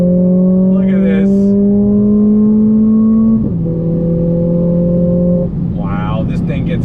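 A 2020 Mercedes-AMG CLA 45 all-wheel-drive sedan accelerating hard, heard loud from inside as the engine note climbs, drops at an upshift, then rises again, with brief vocal sounds over it.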